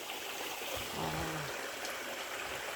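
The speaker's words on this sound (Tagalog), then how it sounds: "galing pa sa bukal doon sa pinakatuktok ng bundok ng Maria Makiling" Clear spring water runs steadily down the mountainside of Mount Makiling, a continuous close babbling stream with faint trickles and gurgles.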